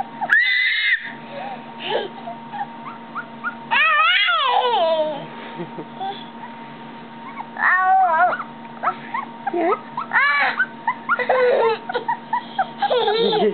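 A puppy gives repeated high, wavering whimpers and whines in short bursts, close and fairly loud, with a person's voice briefly heard.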